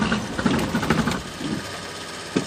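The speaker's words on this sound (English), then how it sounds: "Now to officially start the car, you're going to put your foot on the clutch and the brake, and then you hit the button one more time." A Nissan S13.5 fitted with an RB25 engine, cold and just started, idling: a loud, close, rough mechanical rumble with uneven pulsing and knocking, settling slightly toward the end.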